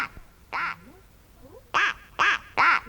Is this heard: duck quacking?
yes